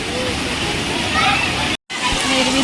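Wading through deep rainwater pooled on a road during heavy rain, steady splashing and sloshing close by with a brief dropout midway and a voice talking over it.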